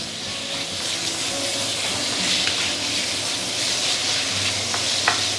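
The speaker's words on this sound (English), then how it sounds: "You want to stir fry until everything turns whitish color." Pork strips stir-frying in a wok over medium-high heat, a continuous loud sizzle with scraping and tossing of the spatula running throughout, no talking.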